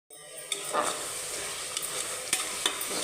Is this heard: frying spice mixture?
yes